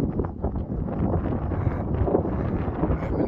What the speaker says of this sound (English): the wind is maybe 3 meters per second